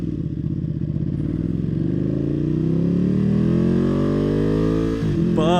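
A 2020 Ducati Panigale V2 motorcycle accelerates hard on the throttle on the street, its engine note climbing steadily in pitch as it revs up, loud and close, before a brief shift near the end.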